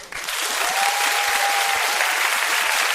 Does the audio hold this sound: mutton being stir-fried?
no